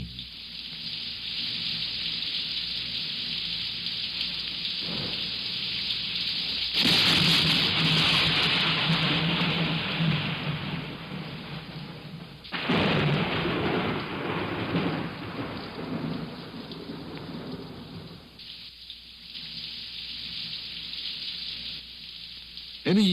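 Radio sound effect of a heavy rainstorm: a loud, dense hiss of rain falling steadily throughout, with bursts of rumbling thunder swelling in the middle and again later.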